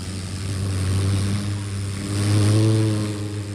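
A voice imitates an airplane, holding a steady droning hum that swells louder near the end.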